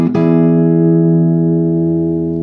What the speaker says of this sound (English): after you do those brush strokes, we're going to hit it with four rapid plucks